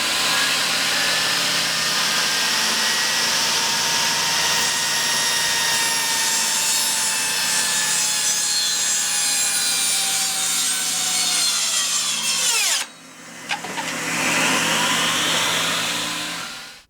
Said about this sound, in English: I didn't get to complete the cut, and we had what they call kickback